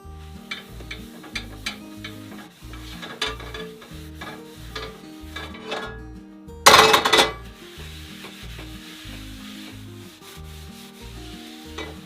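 A cast iron skillet gets a final coat of oil, giving soft rhythmic rubbing and stirring strokes with faint sizzle, then a brief loud hiss burst in the middle before the quieter wiping resumes.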